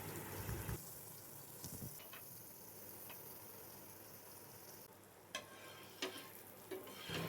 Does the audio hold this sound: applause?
no